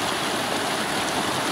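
High creek water pours over a step in the streambed on Oak Creek, a steady, loud broadband rush close by with no pauses and no voices.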